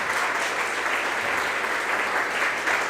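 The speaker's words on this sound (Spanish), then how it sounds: "Un fuerte aplauso para el Padre." Church congregation gives the priest a strong round of applause, dense steady clapping from many hands at moderate loudness throughout.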